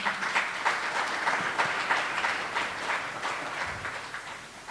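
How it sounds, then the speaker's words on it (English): Audience applause at a conference on African economic impact, a fairly quiet, even patter of many hands clapping steadily throughout with no voices over it. "Please give them a round of applause."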